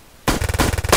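Gunfire in the tactical shooter game Door Kickers bursts in abruptly after a quiet moment, a loud, close, rapid string of automatic shots.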